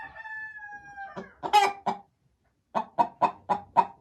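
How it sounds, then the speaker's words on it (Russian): A hen lays an egg on a bare floor without straw and gives a run of loud, close, rhythmic clucks, coming in bursts after a short pause. "Я же хочу показать, как несет курочка яйцо."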